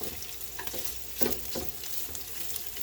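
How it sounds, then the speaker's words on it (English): Corned beef and bacon frying in a pan, an even sizzle with a few sharp scraping and flipping knocks up close, no speech. "the bacon we want crispy, so I just keep scooping it and flipping it so it doesn't burn"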